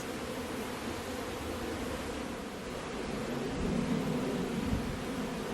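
Honey bees swarm around an open hive during a bare-handed honey harvest, a dense, steady buzzing hum that holds throughout and swells slightly near the end.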